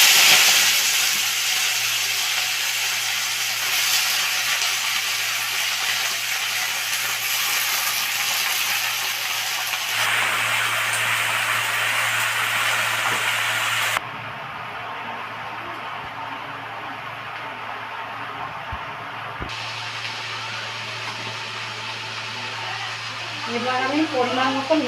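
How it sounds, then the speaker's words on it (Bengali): Mixed vegetables hit hot oil seasoned with panch phoron and dried red chillies, giving a loud, steady sizzle and hiss that runs throughout, changing a little as the pan settles, with a faint rattle near the end. "এবার সবজিগুলো আমি দিয়ে দিচ্ছি।"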